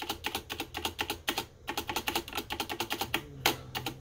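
Rapid typing on a Keychron K8 TKL mechanical keyboard with Cherry Red switches, a steady run of close, subdued plastic keystrokes with a brief pause midway and a louder clack near the end.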